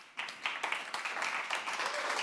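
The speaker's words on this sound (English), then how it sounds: "now you see it's working again with that applause thing" An audience at a livestreamed pitch-competition final bursts into applause, a steady wash of many hands clapping that starts abruptly and carries on at moderate volume without voices.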